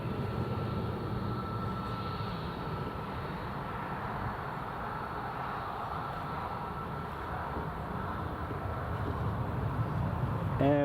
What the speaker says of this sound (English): I think it's another TUI just taxiing, I think.